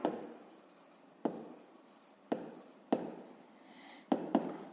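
A pen or pencil writes the digits 0, 1 and 2 by hand on paper during a fifth-grade maths exercise: a close, soft scratching broken into several separate strokes with sharp taps where each one starts.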